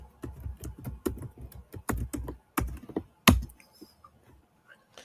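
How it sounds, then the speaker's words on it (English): Someone types on a computer keyboard in a quick run of separate clacking keystrokes with short pauses, then one loud hard strike followed by a few faint taps. "pound that keyboard with that aggression"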